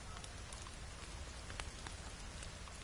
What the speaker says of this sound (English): Dude, it's raining.